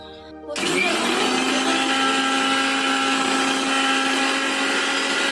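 Electric mixer grinder switched on to grind poppy seeds, starting abruptly into a loud, steady high-pitched whirring drone that holds for several seconds, then cuts off.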